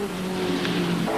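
Touring race cars speed past at Amaroo Park during a 1982 AMSCAR race, a loud, close engine drone with a pitch that shifts as they go by.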